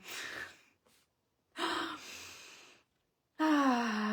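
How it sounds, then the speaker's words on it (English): A person draws a few deep, audible breaths, with soft airy inhales and exhales separated by short silences, heard up close with no talking. "I'm just gonna take a breath here."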